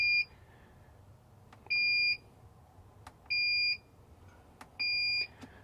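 A refrigerant recovery machine's alarm gives three steady electronic beeps, each about half a second long and evenly spaced, close and clear over a quiet background with a few faint clicks.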